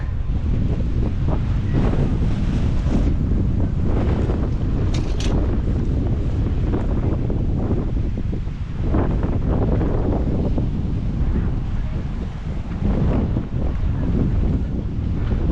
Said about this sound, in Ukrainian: Вітер здуває стільці